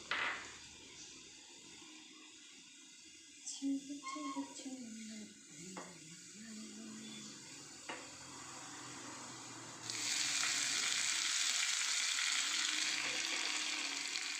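Curry leaves hit hot oil in a frying pan with sautéed onions while cooking a pumpkin and lentil erissery, giving a soft crackle, then a few clinks and stirring, and finally a loud, sustained sizzle.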